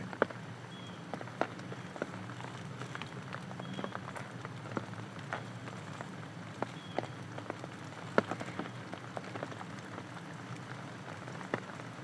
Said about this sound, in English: Looks like the rain's starting to come down again.